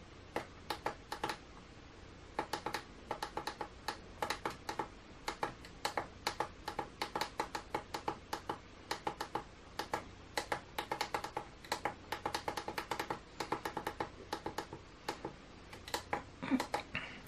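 Someone types a name on a computer keyboard: quick, close, crisp key clicks in irregular bursts with brief pauses, steady throughout against a quiet background.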